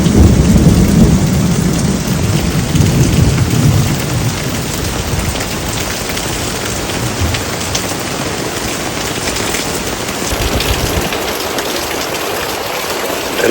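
Heavy rain pours steadily while a deep rumble of thunder rolls loudly through the first few seconds and then fades, leaving dense rainfall hiss with no talking.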